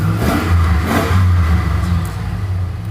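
An old car engine revs loudly and close up after a cold start, with a sharp burst of throttle near the beginning. It then settles into a rough, lumpy idle, and there is no talking.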